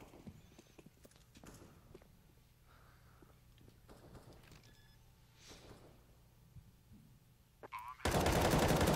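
Sharp gunshots in CS:GO on the Mirage map during a pro match, scattered quick cracks and short bursts at moderate volume, ending in a sudden loud burst.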